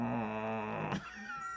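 A person's voice imitates a cat's meow, a drawn-out nasal yowl that bends in pitch, followed by a short higher wavering cry.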